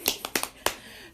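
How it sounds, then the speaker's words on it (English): A few sharp, light hand claps in quick succession, close and fairly quiet, followed by a brief pause. "wait, I need to clap too"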